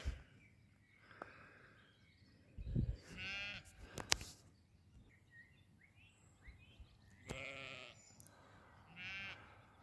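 Sheep bleating in the Welsh countryside, several separate calls near and far spread across a quiet outdoor background, with faint birdsong between them.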